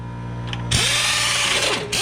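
Power tool whirring up loudly during a Toyota 4Runner foam cell suspension install, a close, continuous spinning whine with a few rising and falling sweeps and a quick restart near the end.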